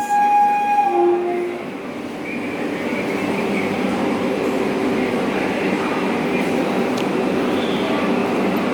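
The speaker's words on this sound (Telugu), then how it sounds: "మూవ్ అవుతుంది విశాఖపట్నం వెళ్తుంది వందే భారత్ ఎక్స్ప్రెస్" A Vande Bharat Express train at Vijayawada railway station rumbles steadily with broadband rail noise, preceded at the start by a brief tonal horn-like blare; continuous and fairly loud throughout.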